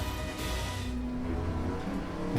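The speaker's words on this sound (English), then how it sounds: "Do you hear that? He's in the 7-liter Raptor." A Ford Raptor truck's 7-liter engine roars and revs loudly close by, its pitch shifting as it surges.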